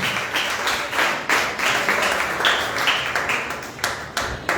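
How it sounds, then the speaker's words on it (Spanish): Church congregation applauding during a Spanish-language service, a run of uneven clapping bursts with some sharper claps standing out, fairly close and moderately loud. "Bríguelo un fuerte aplauso al que empieza a fuerza."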